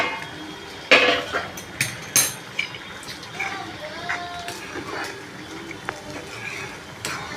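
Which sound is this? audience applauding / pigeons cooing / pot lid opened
pot lid opened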